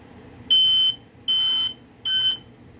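A smoke alarm from a collector's set of smoke and fire alarms sounds during a test, giving three loud, sharp electronic beeps in an even pattern with short pauses between them.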